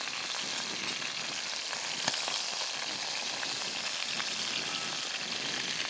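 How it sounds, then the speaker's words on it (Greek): Peppers sautéing in oil left in a pot after browning chicken produce a loud, continuous close-up sizzle with crisp crackles and one brief sharper pop, heard alone without speech. "Στο ίδιο λάδι σοτάρουμε τις πιπεριές."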